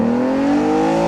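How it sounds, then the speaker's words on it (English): An Aston Martin DB9's V12 exhaust note rises in a smooth, loud, sustained rev as the engine climbs under acceleration in sport mode, with no voices. "you're going to hear the exhaust note of that engine, the V12 engine on song."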